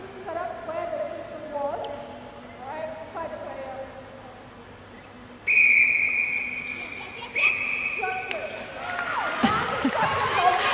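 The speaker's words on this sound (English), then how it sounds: "It's a lot of whistle at the moment, isn't it?" Sharp umpire's whistle blasts at an international netball match between Sri Lanka and the Cook Islands, several loud shrill toots standing out over crowd noise and commentary.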